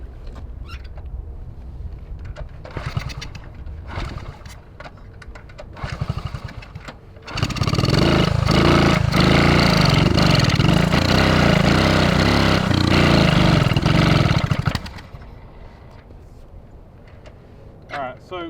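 A 1979 Honda Trail 90 barn-find motorcycle, unused for 26 years, sputters through start attempts with people talking nearby, then catches and runs loud and steady for about seven seconds before cutting off, followed by more talk.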